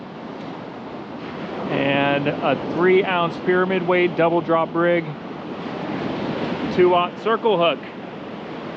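Steady ocean surf rolls and breaks along a beach where surf fishing lines are set, a continuous wash of waves and wind heard beneath someone talking up close.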